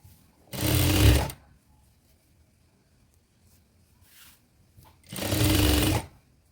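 A sewing machine stitching a shirt collar runs in two loud bursts of about a second each, separated by a quiet pause with faint rustling and handling.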